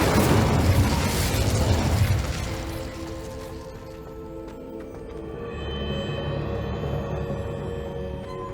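Incendio fire spell cast in the Hogwarts Legacy video game: a loud whooshing burst of flame for about two seconds, then fading into softer game ambience with a lingering tonal shimmer.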